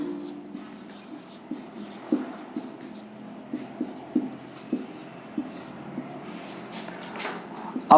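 Marker or chalk tapping and scratching on a board as a physics definition of a dipole is written out, a series of short, close, distinct strokes in a quiet room.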